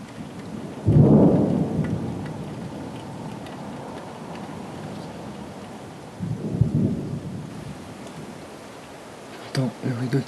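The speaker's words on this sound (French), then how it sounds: "Oh oui, il s'approche sévère le rideau de pluie." Thunderstorm over Sallanches with a heavy rain curtain approaching: a loud rumbling thunder burst near the start, steady hiss of rain throughout, a second thunder roll midway and faint sounds near the end.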